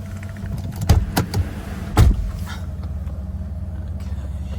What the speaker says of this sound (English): The seatbelt presenters also work, you'll see.